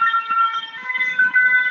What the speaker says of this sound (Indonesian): Dan selalu ada suara sirine-sirine aja ya kalau di Paris ya tipikal ya.